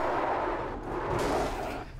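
A car bumper impact crash in the iRacing sim racing game, a loud dense burst of crunching noise spanning the whole moment, dipping briefly and swelling again before tapering off.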